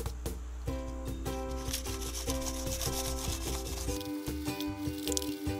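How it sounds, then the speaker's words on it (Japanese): Paint is wet-sanded with 2000-grit waterproof sandpaper in a continuous close rubbing, with squeaky, tonal strokes that shift in pitch as the paper moves. "まずは耐水ペーパー2000番で削っていきます。"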